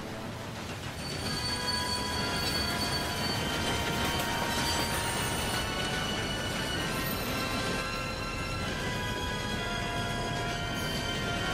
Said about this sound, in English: That train's not gonna stop in time, is it?